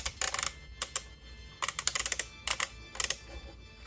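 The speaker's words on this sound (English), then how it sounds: "That clicking sound reminds me of the vintage Kenner toy or the vintage collection version of the AT-AT." Joints of a Star Wars Micro Galaxy Squadron AT-AT walker toy being moved, producing quick bursts of crisp plastic clicks in irregular clusters, close and fairly quiet with gaps between them.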